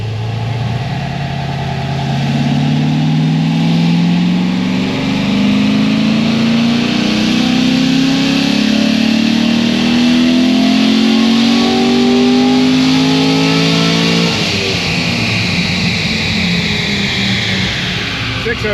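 A Corvette Z06 engine on a dyno winds up in one long, loud, rising pull lasting about fourteen seconds, then cuts back and settles toward idle.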